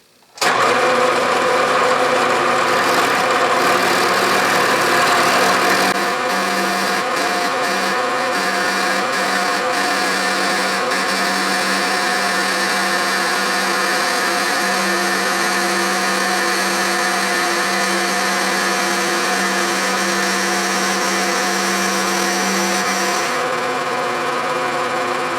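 A machine makes a cutting pass on a Will-Burt Versa-Vise jaw during a restoration, its motor starting abruptly and then droning steadily and loudly at close range for over twenty seconds.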